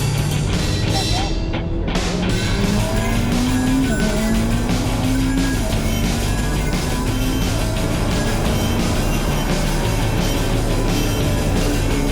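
Ferrari SF90 lapping Circuit of the Americas at night, a loud continuous engine drone with shifting pitch and occasional tyre noise, sustained throughout at close range.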